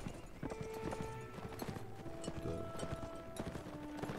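A horse gallops in the video game Mount & Blade: Warband, its rapid hoofbeats drumming steadily throughout, fairly close, with tonal game sounds layered underneath.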